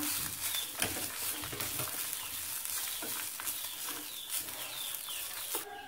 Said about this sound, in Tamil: இது கொஞ்சம் நல்லா வறுபடட்டும்